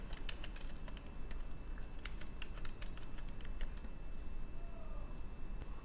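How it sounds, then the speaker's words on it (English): Steady clicking of a computer keyboard as someone types, light rapid taps in uneven bursts over a faint constant hum, close and fairly quiet. "So I'm going to start to type capital A"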